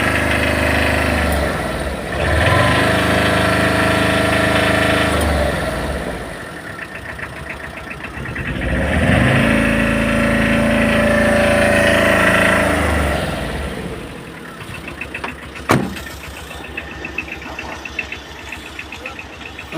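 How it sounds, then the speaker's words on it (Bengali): A running Tata EX2 vehicle's engine idles with a rough, knocking chug that swells and eases in waves, loud and close, with a sharp knock near the end. "স্টার্টে আছে গাড়ি এখন বর্তমানে"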